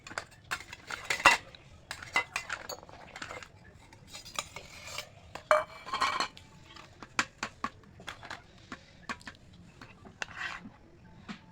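A metal spoon clinks and scrapes in irregular bursts against a dish, mixing mayonnaise and tomato sauce into heated leftover roti, close up and fairly quiet.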